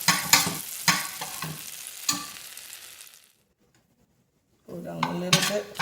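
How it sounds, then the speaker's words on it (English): Spoon stirring food around a pan while cooking a creamy pumpkin shrimp curry, with distinct scraping strokes and a light sizzle, a silent pause in the middle, then more stirring and clatter close by. "so we're going to keep stirring."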